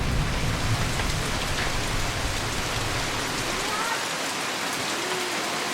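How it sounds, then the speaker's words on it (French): Heavy tropical rain pours steadily in a stilt-house village just south of the equator, a dense, loud hiss of drops on surfaces that continues unbroken with no voices. "les fortes pluies qui arrivent sans prévenir"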